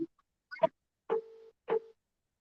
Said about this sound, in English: I'm going to call the caller back. It's ringing.